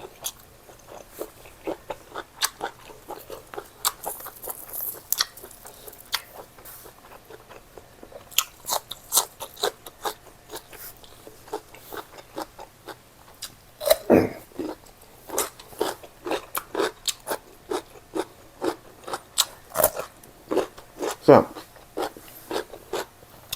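Raw beef salad with red ants is chewed up close, giving a long run of sharp, crisp crunching bites and wet mouth sounds at an irregular pace, with a few louder crunches.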